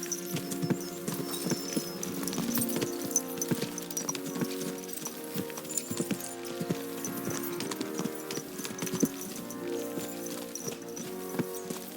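Rhythmic clip-clop of horse hooves galloping in Kingdom Come Deliverance 2 runs steadily over a layered, tonal game soundtrack, moderately loud and continuous throughout.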